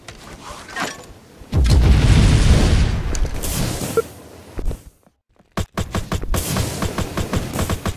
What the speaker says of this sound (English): Your rocket has been destroyed.